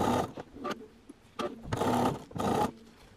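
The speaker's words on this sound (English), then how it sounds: "So I'm going to sew right down and finish all this off." A home sewing machine stitches bias binding onto a three-quarter circle skirt in several short, close bursts of rapid mechanical whirring, separated by brief pauses.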